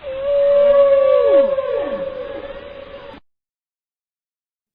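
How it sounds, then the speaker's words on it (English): A single long, tonal whale call sustains loudly and then bends downward in pitch. It fades over about three seconds, and silence follows. "Whale."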